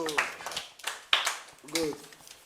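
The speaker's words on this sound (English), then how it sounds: "Clap for Angelo" Children clapping at a Nigeria Independence Day celebration in Benin City, several short bursts of hand claps mixed with voices talking, fairly close.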